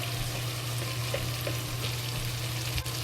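Lacinato kale and shredded pork stir-frying in a hot pan, a dense, continuous sizzle heard close and fairly loud, with no voices.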